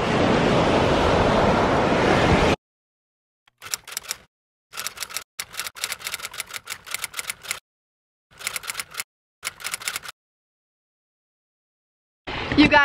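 Waves surge on an ocean beach with loud rushing surf and wind, broken by bursts of clicking camera noise and stretches of near silence.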